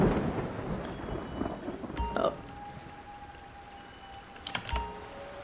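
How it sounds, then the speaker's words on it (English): Steady rain hisses throughout in Grand Theft Auto Online, with two short bursts of thunder cracking through at intervals. Faint keyboard clicks and other game sounds sit low in the mix. "it's pissing down with rain again"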